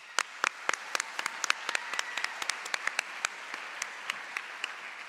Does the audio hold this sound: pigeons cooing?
no